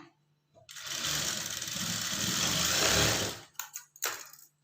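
A sewing machine stitches a blouse patti in one loud, continuous whirring run of about three seconds, then stops, followed by a few brief, short bursts.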